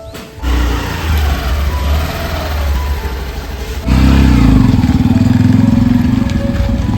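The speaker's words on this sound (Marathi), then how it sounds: "बाईक बाहेर काढतायत आता तिकडे रोडच्या साईडला" A motorcycle wheeled out to the roadside with its engine running, a low idle throb that jumps to a louder, rougher rev partway through and stays up, close and without talk.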